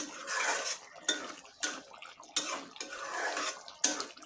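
Clattering of pots and a metal lid as a pot of cooked fish is covered, several separate clanks and scraping bursts in a steady run, fairly near and moderately loud, with no voices.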